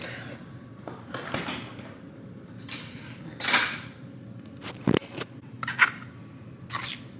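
Metal cutlery clinks and rattles in a kitchen drawer during a search for a fork, with scattered clatters, a sliding drawer and a few sharp knocks, close and fairly quiet.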